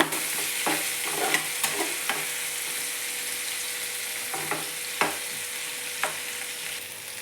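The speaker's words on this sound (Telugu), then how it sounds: "టమాటా బాగా వేయించుకోవాలి ఉప్పు వేసాం కదా త్వరగా వేయిపోతుంది" Tomatoes frying with salt in a pan for a methi curry, a steady close sizzle with scattered sharp clicks of a spoon stirring against the pan, no talking.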